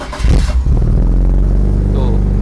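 A BMW E36 with a local Ironcraft aftermarket exhaust cranks and fires up close by, settling quickly into a loud, deep, steady idle rumble.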